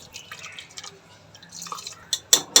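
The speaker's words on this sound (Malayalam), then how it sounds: "ടൊമാറ്റോ അരച്ചില്ലേ അത് കഴുകി ഇച്ചിരി വെള്ളം ഇതിലോട്ട് ഒഴിക്കുന്നുണ്ട്." Water rinsed from a ground-tomato vessel is poured into tomato curry for paneer mutter, giving soft drips and trickles, then a few sharp clinks of metal utensils near the end.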